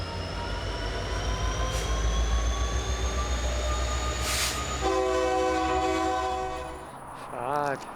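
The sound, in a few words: freight train horn in the distance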